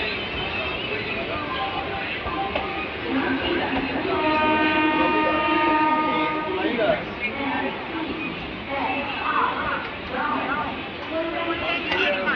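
A local train at busy Naihati junction rumbles along with clattering wheels, and a horn sounds in the middle, while people talk throughout.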